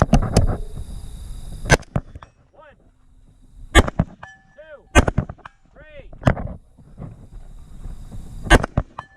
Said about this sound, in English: blow up the wire with the Bangalore